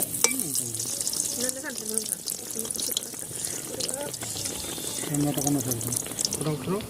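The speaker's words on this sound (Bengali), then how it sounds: "এইভাবে একে একে সবগুলো পিঠে ভেজে নিব" Oil sizzles steadily as rice cakes deep-fry, a constant hiss with occasional bubbling, while a voice talks intermittently over it.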